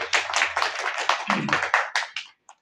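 A small group claps for the hosts at a political meeting with a Christian community. There are about a dozen distinct, fairly close hand claps in an uneven rhythm, ending in a single light tap.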